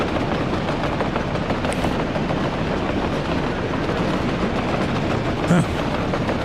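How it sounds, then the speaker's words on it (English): Train wagons rolling along a double-tracked rail line in the Soviet Republic building game Workers & Resources, a steady, dense rumble with faint clickety-clack that holds at even loudness throughout. "There we go, the train wagons start working."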